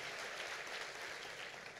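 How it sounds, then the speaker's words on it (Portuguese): Congregation applause during a church sermon, a steady broadband patter of many hands clapping throughout, fairly faint and distant with no clear voices on top. "Pode ser mais alta as suas palmas."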